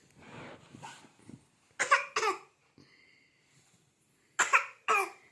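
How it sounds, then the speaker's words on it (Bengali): A baby coughs four times in two quick pairs, sharp and close, separated by a pause, with faint soft vocal sounds early on. "আবার কাশে।"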